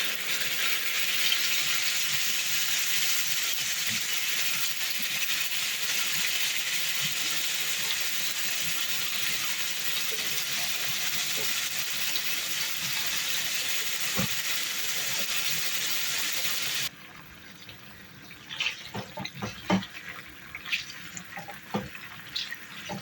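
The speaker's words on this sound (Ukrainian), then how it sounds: "відправляю порізане м'ясо. Нам необхідно його підрум'янити добре, бажано на великому вогні." Diced meat for goulash searing in a hot pan over high heat, a steady loud sizzle and hiss for most of the time, then dropping to quieter crackles and scattered pops near the end.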